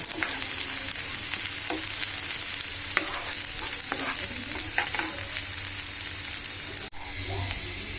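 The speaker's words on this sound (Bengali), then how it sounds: "পেঁয়াজ বেস্তা করব" Onions frying in a pan until crisp for a beef mince mash, a steady close sizzle with stirring scrapes throughout, briefly dipping near the end before the frying resumes.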